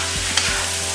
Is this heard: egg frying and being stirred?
yes